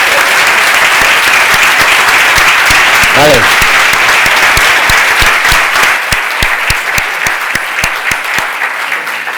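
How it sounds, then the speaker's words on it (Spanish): A tech event audience breaks into loud, sustained applause with crisp individual claps standing out near the end as it thins, while a voice speaks briefly over it. "Un fuerte aplauso y muchísimas gracias"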